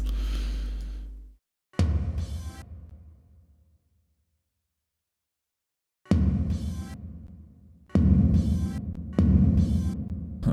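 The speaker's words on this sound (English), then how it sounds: "there's some tom reverb going on" Tom drums with a reverb tail in a music mix, heard as several loud bursts that ring out and decay, with a long quiet gap between the first hits and a later group of repeated strikes.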